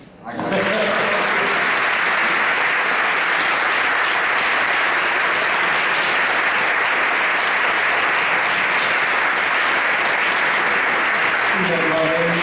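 A farewell event audience breaks into loud, dense applause that holds steady for over twelve seconds, with voices briefly audible at the start and end.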